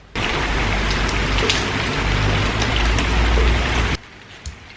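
Steady, dense rain falls outdoors as a loud, continuous hiss for about four seconds, then stops abruptly, leaving a quiet background.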